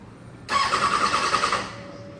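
A 2026 Kawasaki ZX6R sportbike fires up after a moment of quiet, a sharp close-up burst of starter whine and engine catching that holds steady for about a second before easing down toward idle.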